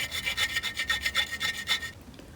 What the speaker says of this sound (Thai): ผมก็ใช้ตะไบนะครับในการบาดล่องนะครับ